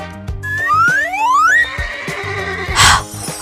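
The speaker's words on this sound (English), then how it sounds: "Horse." A horse whinnies loudly and alone, a rising then falling neigh with a strong harmonic sweep, set over a steady musical backing with a short bright burst near the end.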